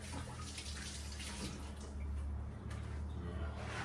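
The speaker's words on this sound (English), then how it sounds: "now you want to get your hands wet again" Running water splashes over wet hands at a sink while sourdough bread dough is being made, a soft continuous trickle and splash with faint clatter, fairly quiet and close.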